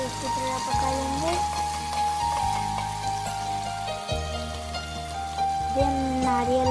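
Tomatoes with ginger, garlic and green chilli paste fry in a pan, a continuous crackling sizzle with occasional stirring scrapes over a low hum, close and fairly loud.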